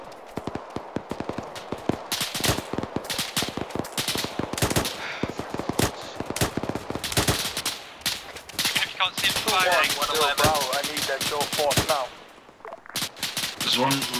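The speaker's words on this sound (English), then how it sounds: "We are engaging small arm fire." Small arms gunfire crackles in a combat engagement, dense rapid bursts and single shots at close range, with shouted voices mixed among the shooting and a brief lull near the end.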